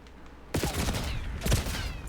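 Automatic SMG fire in Call of Duty, a sudden loud burst of rapid shots starting about half a second in and rattling on without a break, with a second punchy spike of shots partway through.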